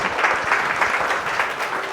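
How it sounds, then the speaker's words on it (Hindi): Church congregation clapping loudly together, a dense steady wash of applause that fills the whole moment without pause, with no talk over it. "आइए जोरदार ताली बजा के"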